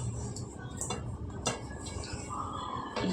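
Fish pieces, salted and coated with turmeric, are dropped one by one into a cooking pot for a raw-mango fish curry, giving a few soft thuds and light metallic clinks close by.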